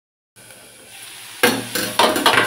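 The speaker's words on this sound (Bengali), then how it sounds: "চাপা দিলাম, একটু ভাজা ভাজা হোক।" Shrimp and snake gourd fry in a pan, a soft steady sizzle that swells into louder bursts of crackling as the pan is stirred, with no voices.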